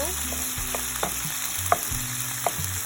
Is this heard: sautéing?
yes